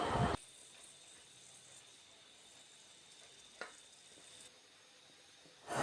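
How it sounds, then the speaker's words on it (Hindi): A steady, faint sizzle of chopped onions frying in oil in a kadai, with a soft clatter partway through and louder bursts of noise at the start and end. "150 ग्राम कटे हुए प्याज ऐड करेंगे इसमें।"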